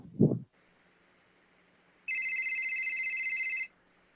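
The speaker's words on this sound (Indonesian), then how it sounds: "Oke, aku telepon dulu ya sebentar." A telephone ringback tone sounds while a call is being placed, one steady electronic ring burst lasting about a second and a half after a brief low thump, fairly close and clear.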